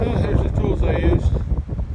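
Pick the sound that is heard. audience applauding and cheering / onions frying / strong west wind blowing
strong west wind blowing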